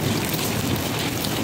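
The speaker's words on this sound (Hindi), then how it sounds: "बहुत तेज़ बारिश हो रही है ज़बरदस्त किस्म की" Heavy, steady rain pours down outside during a power cut while chicken fries in a home kitchen, a dense continuous roar of drops with no break and no voices.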